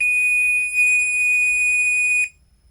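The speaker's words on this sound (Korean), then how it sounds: "이것을 이렇게 부저로 해서 체크하게 되면, 반대로 해서 또 체크하게 되면, 부저가 나다가" Multimeter buzzer sounding a steady, loud high-pitched tone while testing a 470 microfarad capacitor from an air conditioner indoor unit circuit board, cutting off abruptly after about two seconds as the capacitor charges.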